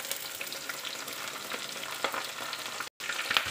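Onion browning in a pan with garlic and ginger, giving a dense, continuous sizzle with faint stirring scrapes and a brief dropout near the end; no talking.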